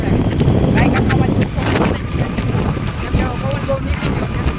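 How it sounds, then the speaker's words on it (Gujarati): Strong wind buffets the microphone while riding a motorbike outdoors, loud rushing gusts and rumble over a continuous roar, with voices partly heard under it. "પવન બહુ નીકળી ગયો છે"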